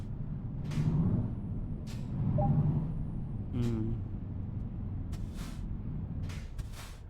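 A truck's air brakes hiss in several short bursts over a low, steady engine rumble, with faint squeaks between releases, in the video game Euro Truck Simulator 2.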